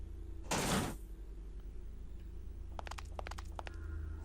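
A door opens in the survival horror video game Parasite Eve 2, a burst of noise lasting about half a second and followed by a few quieter clicks over a steady low background hum.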